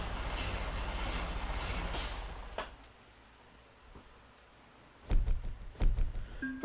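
A truck dropping its trailer in American Truck Simulator: a steady broadband hiss, then a sharp burst of air brake release, a quiet pause, and a few heavy mechanical thunks and clanks near the end.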